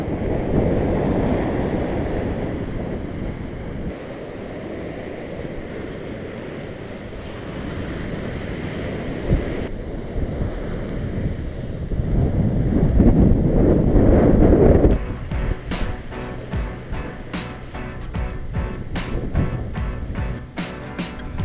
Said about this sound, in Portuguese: curtir essa brisa